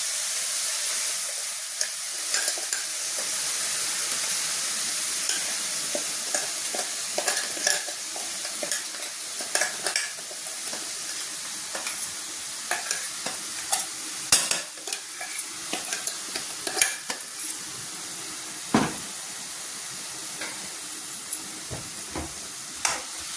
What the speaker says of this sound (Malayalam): നമ്മുടെ അരപ്പം ഇട്ട് കൊടുക്കാം.